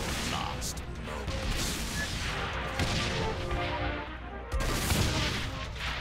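Shotgun blasts and dense gunfire in the video game Saints Row IV, loud and continuous with crashing impacts, filling the whole stretch with chaotic combat noise.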